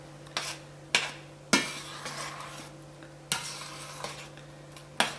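Spoon or ladle stirring pepper jack and cheddar cheese into a pot of broccoli soup, with sharp clinks against the pot at a slow irregular pace over a steady low background hum.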